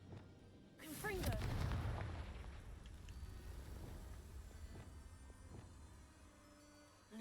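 A Confringo blasting spell cast in the game Hogwarts Legacy, a single loud booming blast with a rushing burst that rumbles and fades over several seconds, with faint later pops and speech underneath.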